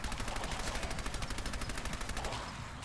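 Rapid automatic gunfire in the video game Fallout 4: a fast, evenly spaced stream of shots lasting nearly three seconds, steady and fairly quiet in the mix, then stopping.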